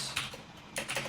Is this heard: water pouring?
no